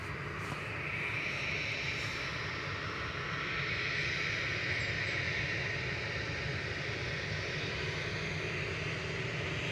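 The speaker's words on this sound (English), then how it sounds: "Jet2 departing now in front of us, heading off to Lyon" A Jet2 airliner departing Manchester Airport bound for Lyon, heard as a steady, broad engine roar that holds at a constant distance and slowly swells slightly louder.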